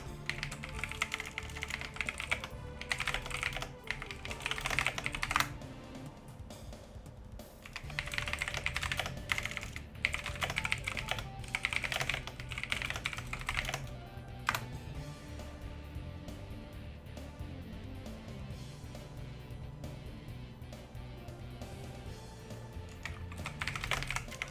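Steady typing on a computer keyboard, close and continuous with dense rapid key clicks in bursts and brief pauses, no talking over it.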